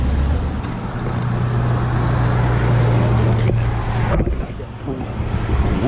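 A car drives along a road near the small town of Ansley, with a steady rushing road and engine noise from inside the vehicle and a faint hum that drops away near the end.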